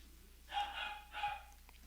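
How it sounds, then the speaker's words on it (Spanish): Dogs bark in a few short, bright bursts, three distinct barks spaced about half a second apart, moderately distant during a Friday church service, with a low steady hum underneath and no talk. "Hasta los perros ahí están entrando en acción."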